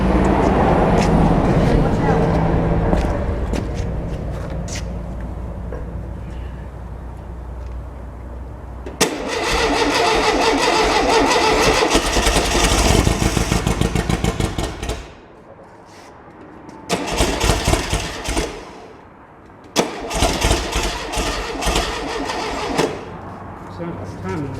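Rebuilt Volkswagen 1835 air-cooled engine cranking and catching, then running and idling roughly with a few surges and cutouts, loud and close, with people talking over it.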